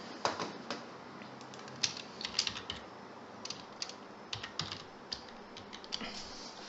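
Someone types code on a computer keyboard, making quiet, close key clicks in irregular bursts with brief pauses between them. No voices are heard.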